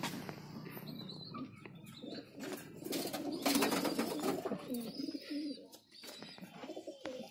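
Soft pigeon cooing from an old pigeon among mixed bird calls and chirps, with some background movement and faint voices, moderately close, in Nagpur.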